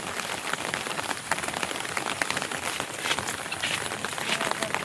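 Steady, dense rain patters on a surface in the Sundarbans, constant and fairly loud throughout with no pauses.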